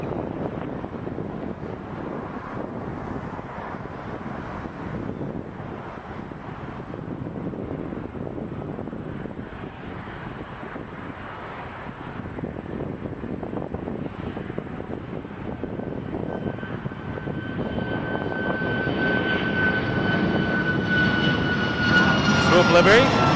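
Jet airliners at Toronto Pearson Airport fill the air with a continuous engine roar that swells steadily louder toward the end, with faint voices in the background.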